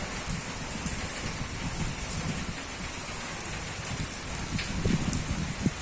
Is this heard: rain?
yes